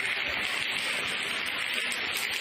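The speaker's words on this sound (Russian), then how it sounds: "Дождь идет в котельной Нижнеудинска." Rain falling inside a boiler house in Nizhneudinsk, a steady dense hiss of water pouring down with no breaks, heard alone without voices.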